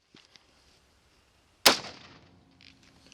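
A single loud, close rifle shot fires a 55 grain Hornady Spire Point varmint bullet, a sharp crack with a decaying echo tail after a few faint clicks.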